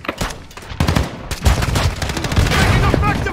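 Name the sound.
gunfire in a video game domination match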